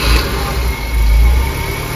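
A BMW E21 car engine idling close by, a loud steady low rumble with slight swells in intensity and no voices.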